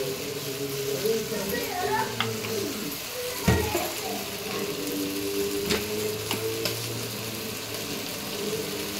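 Chicken curry with chopped tomatoes, Telangana style, being stirred in a pot, giving a soft scraping and low sizzling that runs steadily under a nearby voice.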